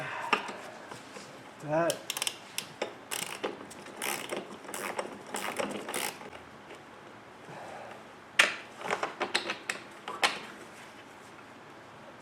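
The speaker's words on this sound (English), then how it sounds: "the upper front control arm, I'm going to use 2 wrenches here to crack this loose." Two wrenches working loose an upper front control arm bolt on an Audi B8, sharp metallic clicks, clanks and ratcheting knocks in irregular bursts at close range, with a brief word spoken partway through.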